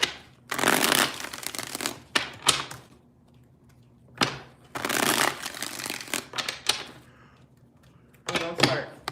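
Tarot cards are shuffled in about four bursts of riffling and rapid flicking, crisp and close, separated by short pauses with a few light taps.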